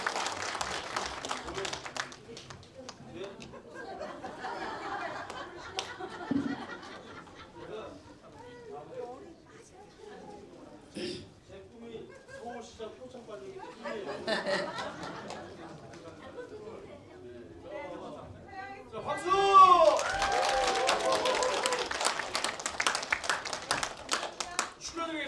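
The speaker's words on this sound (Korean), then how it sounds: "다시 한번 박수 부탁드리겠습니다." Audience applause breaks out at a folk song contest award ceremony, following a stretch of an announcer speaking over a faint murmur. The clapping swells loudly near the end and holds steady as a dense, crowd-wide patter.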